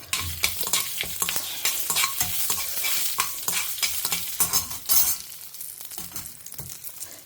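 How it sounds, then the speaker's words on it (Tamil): Mustard seeds and urad dal fry in hot ghee, crackling and popping in quick irregular bursts close by, with a few louder sputters midway and no talking. "இப்போ நான் கடுகு, உளுத்தம்பருப்பு போட்டுக்கிறேன். இது நல்லா பொரியட்டும்."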